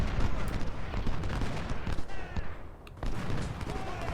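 Rapid, crackling musket fire from the Ultimate General Civil War strategy game rattles in dense volleys, overlapping shots popping continuously with a brief lull before resuming.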